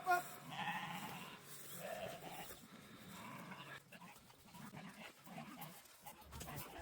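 Katahdin sheep mixed with Corsicans bleat while being loaded on a solar farm, scattered calls over shuffling movement, with a dog nearby and faint background activity.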